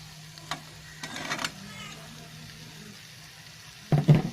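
Vegetables such as carrot and potato are added to tomato sizzling in a pan for a parotta salna, giving a few quiet clatters and a soft frying hiss, then a louder thump and sizzle near the end.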